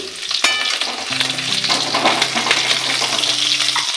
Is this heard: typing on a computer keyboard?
no